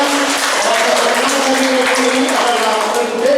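Audience applause at a Catholic parish hymn-singing contest, steady dense clapping held for several seconds, loud and close, with a voice talking over it.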